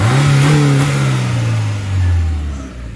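A turbocharged Honda engine revs loudly and close by, its deep pitch climbing briefly and then sliding back down as the revs fall, with no talking.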